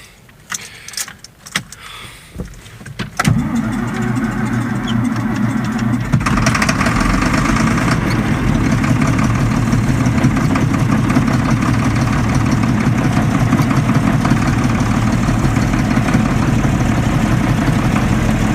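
A vehicle engine, freshly repaired and plugged in for the cold, clicks and cranks, catches, then settles into a loud, steady, low rumbling idle for the rest of the clip.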